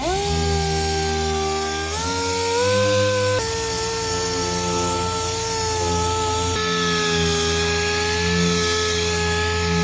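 A steady, droning power-tool whine from sanding body filler on a car bumper with 320 grit, stable pitch shifting slightly a few times, running continuously at close range with no talking.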